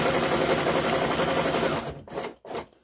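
An industrial sewing machine runs at a fast, steady whir for about two seconds, then slows and stops in a few jerky bursts.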